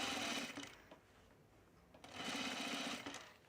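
A serger stitches a seam on a Teddy top, running in two loud sustained bursts with a quieter pause between them, with no talk over it.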